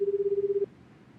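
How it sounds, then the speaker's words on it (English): Phone dialing in the video game 428: Shibuya Scramble: one steady electronic keypad tone holds for over half a second, then cuts off into quiet background hiss. "Tatano got his phone out and called Kano."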